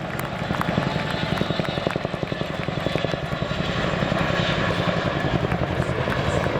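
RAF Chinook tandem-rotor helicopter, a 15-ton machine, reversing into an over-the-shoulder departure at RAF Cosford Airshow 2019, with a loud continuous engine roar and rapid rhythmic rotor thumping, steady and close throughout.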